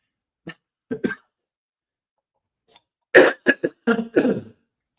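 A man coughs a couple of times, pauses, then clears his throat in a quick cluster of rough bursts, close and fairly loud against otherwise silent surroundings.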